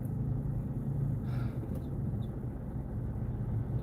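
A car sits idling in a stationary traffic jam, giving a steady low engine rumble with no talk.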